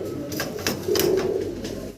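Caged fancy pigeons, among a large flock kept for sale, give a steady low cooing murmur that fills the whole stretch without any voices.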